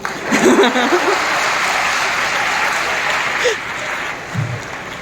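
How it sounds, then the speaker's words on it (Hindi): A crowd applauds loudly and steadily at a Brahma Kumaris gathering, a dense wash of clapping filling the whole stretch without pause. "तो मारो ताली, सब मारो।"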